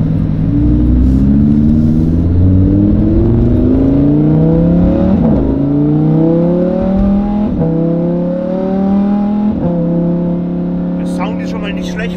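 Lamborghini Huracan LP610-4 with a Stage 1 tune accelerating hard, its engine note climbing through several gear changes in a loud, close, continuous roar with rising harmonic sweeps that drop at each shift.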